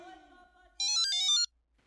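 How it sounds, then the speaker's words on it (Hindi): A phone ringtone sounds in a short bright electronic melody burst lasting under a second, following a fading musical tone, in a household setting. "किसका फोन आ गया?"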